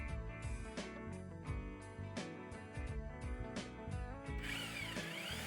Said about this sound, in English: Then drill a hole at the bottom of the bottle, just slightly bigger than a pen.